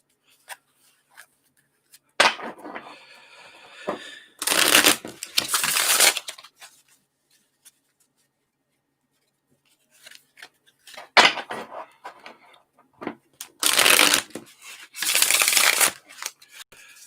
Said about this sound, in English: Let me do a couple quick shuffles here for you.